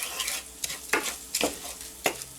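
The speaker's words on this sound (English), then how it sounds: "And then I'm going to stir that in as well." Garlic oil is stirred into a hot sizzling pan, a continuous hiss punctuated by several loud spoon scrapes and knocks at an irregular rhythm.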